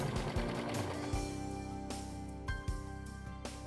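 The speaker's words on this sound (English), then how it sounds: "Be sure that the strip is caught in the seam as you serge." A Brother 1034D serger stitches a seam with twill tape caught in it. A soft, steady mechanical hum runs throughout, punctuated by a few duller thumps, close and quiet with no talk.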